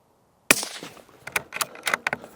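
A Tikka T1X Hunter rifle fires once outdoors at a 50-yard range: a sharp, loud crack breaks the silence and is followed by a string of echoing pops and rattles as the report rolls away.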